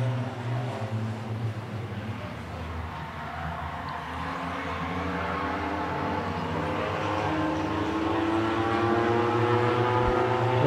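A pack of race cars on a track accelerates after the green flag for a four-lap shootout, a loud, steady engine roar with layered rising tones that grows slightly over time, with no talk.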